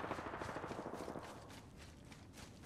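Gunfire from Apex Legends comes as rapid automatic bursts, fairly loud early on and then continuing somewhat more faintly as a steady rattle.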